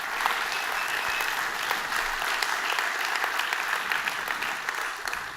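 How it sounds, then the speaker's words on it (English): Sustained applause from a large conference audience at the UI5con 2026 main stage event, a constant dense roar of clapping heard from a distance, with no talk over it. "big round of applause to the organization team again this year"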